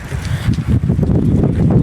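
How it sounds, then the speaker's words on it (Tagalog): Steady wind rumbling and buffeting close to the microphone, a dense low roar that fills the whole stretch with no pauses. "Tapos mahangin, napakalamig."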